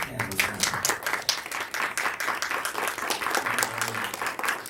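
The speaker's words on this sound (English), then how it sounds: "How about we do a round of applause for our panelists?" An audience at an NABJ Millennial Summit panel applauds the panelists with steady, dense clapping that carries through the whole stretch at close range.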